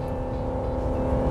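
RAM 1500 pickup with a 3.6L Pentastar V6 pulling hard at high RPM while cruising on the highway, a steady loud engine drone with strong low harmonics held throughout, no voices.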